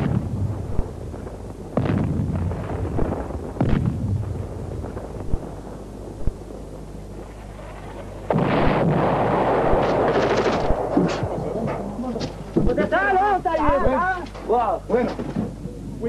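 Syrian artillery shelling pounds positions on a ridge, with repeated booming blasts and rattling bursts of gunfire spread across the clip, some close and loud, amid wind noise and brief voices.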